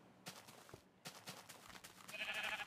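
Sheep bleating in a Minecraft-style video game: a few short, close bleats in quick succession, fairly faint, with no talk over them.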